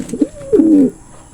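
A racing pigeon hen gives a single close, clear coo with a short lead-in note, heard alone against quiet background.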